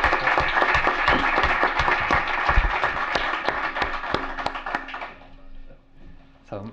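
Welcoming applause for a photography master class speaker, a room full of distinct claps at moderate volume that thins out and fades after about five seconds, followed by a faint voice.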